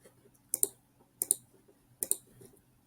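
Computer mouse clicks on a spreadsheet invoice file, three quick double clicks spaced evenly, close and crisp over a faint low hum with no talking.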